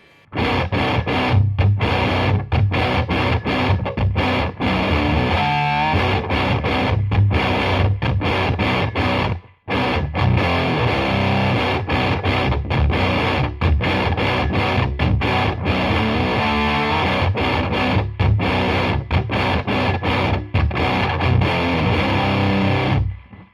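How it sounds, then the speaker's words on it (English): Heavily distorted electric guitar, in a lower tuning through a Boss HM-2 Heavy Metal pedal, playing loud, thick chugging riffs and chords almost continuously, with one brief break near the middle. "I think this is quite a good distortion pedal actually"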